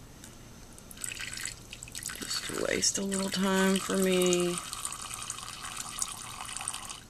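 Water is poured into a pet tarantula's water dish during a rehouse: a brief splash, then a few steady trickling pours with drips, while a person talks nearby.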